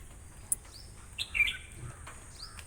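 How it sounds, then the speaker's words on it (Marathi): A few short, bright chirps from a bird, faint and somewhat distant, over a quiet background with light patter. "तो पक्षी कुठला काय माहिती, किती छान बोलतोय तो"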